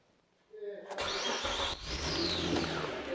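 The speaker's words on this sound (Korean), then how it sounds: "시동 한번 걸어 보도록 하겠습니다" A Renault Samsung SM7 2.3 LE sedan's cold engine cranks and catches after a brief click, then settles into a steady, smooth, quiet idle close by.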